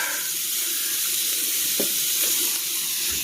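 Pork and beef sizzle on a hot pot grill turned up to high, a steady broadband hiss with a couple of faint clicks partway through, close and continuous with no voices.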